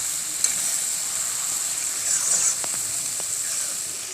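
A spice mixture fries in oil for a vegetarian dish, a soft steady sizzle and hiss with a few faint stirring scrapes, close and alone.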